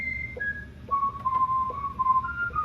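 Keyboard patch sounding a whistle on the upper part of a Hammond organ rig, a thin, pure whistled melody of a few sliding notes, soft and close with a faint organ bed beneath.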